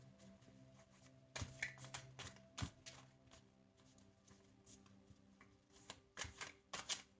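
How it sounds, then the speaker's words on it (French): A deck of tarot cards being shuffled by hand, giving quiet, close, irregular bursts of riffling and slapping with soft pauses between them. "je vais remélanger le jeu"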